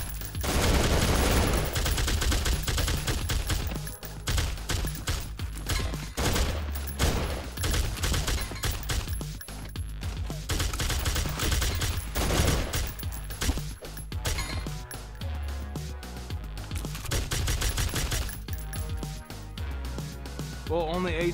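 Weapon gunfire in the video game Madness Interactive Reloaded: rapid, loud bursts of shots in repeated volleys with short pauses between them, under a player's voice talking.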